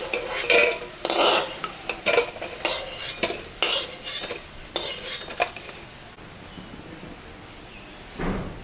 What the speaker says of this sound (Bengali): বড়া ভাজা হয়ে গেছে আমি এখন তুলে নিলাম